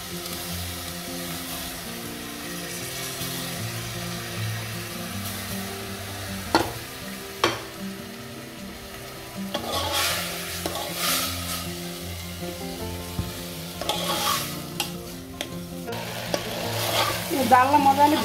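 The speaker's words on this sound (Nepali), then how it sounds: "दाललाई मजाले भुट्नुपर्छ।" Lentils fry and get stirred in a pan, a steady soft sizzle broken by a few sharp scrapes and clinks of the spoon, with no talking.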